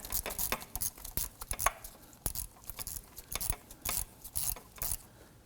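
Ratchet snugging down a bolt while fitting a starter on a 2003-2014 Volvo XC90, heard as quick bursts of clicking metallic ratcheting strokes, close and fairly quiet, with no talk.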